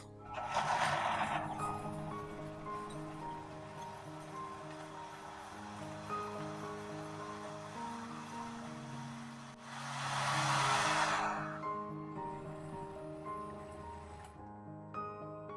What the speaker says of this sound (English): Turn on the switch and blend it well.